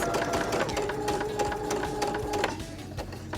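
A sewing machine stitches slowly through fabric for a bow, its steady mechanical whir and rapid needle ticks running continuously at close range with no talking.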